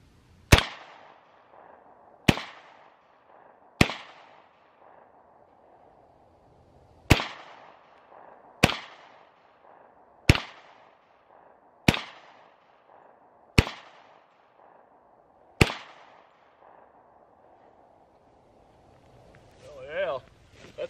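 Pistol gunshots at an outdoor shooting practice, fired from a handgun fitted with an added compensator: nine sharp, loud reports spaced unevenly over about sixteen seconds, followed by a brief muffled rustle.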